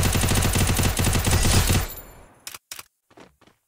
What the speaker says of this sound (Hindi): ग्रेनेड के पीछे से बंदा फायर कर रहा है